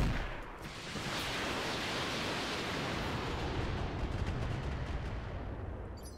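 Weapons fire from mechs in the Roguetech mod of BattleTech, a dense, roaring wall of overlapping blasts and explosions that swells and sustains loudly for several seconds before tapering off.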